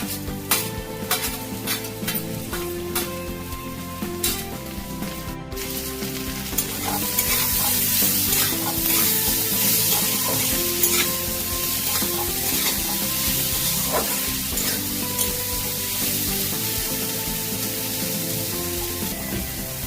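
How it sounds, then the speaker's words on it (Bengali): Chopped tomato and green chili hiss and crackle in a hot frying pan of mutton fat ghugni, loud continuous sizzling with repeated scraping stirs and occasional utensil clinks close by. "কুচানো টমেটো আর কাঁচা লঙ্কাটা দিয়ে দিচ্ছি।"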